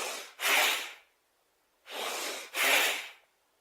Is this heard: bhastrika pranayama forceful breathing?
yes